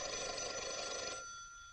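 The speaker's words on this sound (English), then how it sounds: "Your phone's ringing." An old telephone bell rings in a 1952 colorized comedy film, a single sustained ring of about a second that cuts off and leaves a faint room tone.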